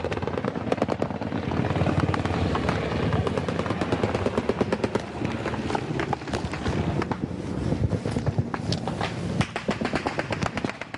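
Sustained machine gun and rifle fire during a Colombian army firefight with FARC guerrillas, loud rapid bursts of shots over a constant helicopter rotor drone, continuing for about eleven seconds.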